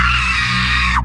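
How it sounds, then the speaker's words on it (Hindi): A woman's long, loud, terrifying scream for a horror story, sustained at high pitch for about a second and then cut off abruptly. "रागिनी की जोर से चिल्लाने की आवाज आती है। वो आवाज काफी भयानक होती है"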